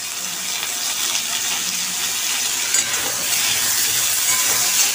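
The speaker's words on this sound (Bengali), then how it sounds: "আলুটা ভাজা ভাজা হয়ে গেছে, এবার টমেটো দিয়ে দিলাম এর মধ্যে।" Potatoes and tomato fry in a pan while being stirred, giving a loud, steady close sizzle with faint scraping and no voices.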